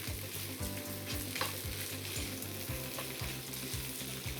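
Egg and rice sizzling loudly in a hot pan over strong heat while a spatula presses them down with repeated rhythmic scraping strokes, a steady close-up fry with no voices.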